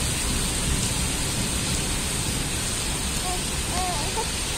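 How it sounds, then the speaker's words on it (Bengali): Heavy rain pours down in Al Ain city, a dense, steady hiss and roar of water that holds at an even level throughout, with a faint voice briefly audible. "প্রচণ্ড বৃষ্টি।"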